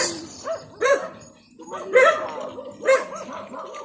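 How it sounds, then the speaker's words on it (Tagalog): Dogs barking in muddy ground, three loud bursts of barks with yips and whimpers spaced about a second apart, fairly close, with no talk over them. "And there are dogs."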